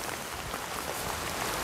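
Rain falls steadily during a frog-trapping outing along a rural ditch, producing a dense, even wash of broadband patter that stays constant and fairly loud throughout, with no voices.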